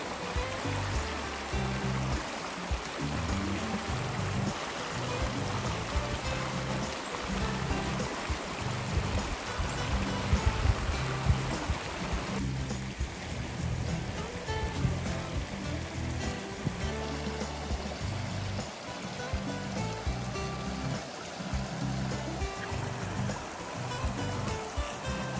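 A roadside stream rushes and burbles steadily, loud and close, with a broad continuous wash of flowing water and small shifts in texture throughout.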